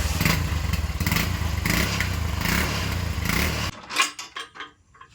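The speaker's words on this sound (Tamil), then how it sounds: "இதான் ஸ்டாக் எக்ஸாஸ்ட்டு." A Yamaha RX100 motorcycle with its stock exhaust idles and revs up close, a rapid two-stroke burble that stops abruptly, followed by a few clattering thumps.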